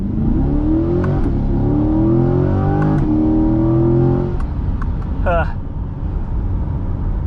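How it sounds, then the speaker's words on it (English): A 2023 Chevrolet C8 Corvette's V8 climbs through several upshifts, the engine pitch rising and dropping in loud, close pulls before settling, with a brief whistling chirp near the end. "That's what I'm talking about with this amazing V8"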